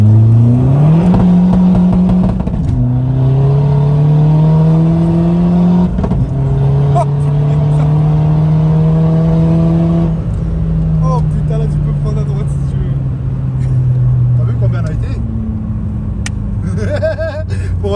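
A 417 hp Golf 4 TDI diesel pulls hard from about 2500 rpm, its engine note climbing steadily in a loud, sustained run up through the revs with brief dips between gears, close by, with a voice talking over it.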